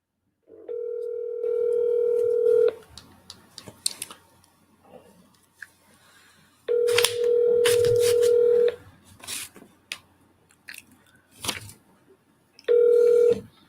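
Outgoing phone call being placed with *67 caller-ID blocking: a loud steady dial tone, rapid bursts of keypad beeps, then repeated long ringback tones, with rustling handling noise in the gaps.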